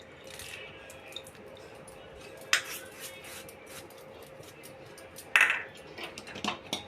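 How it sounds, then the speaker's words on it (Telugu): Jaggery is stirred into tamarind pulusu in a pot, giving quiet, sparse clinks and scrapes of a spoon against the pot, with two sharper knocks standing out. "బెల్లం వేసి కలుపుతాను చూడండి."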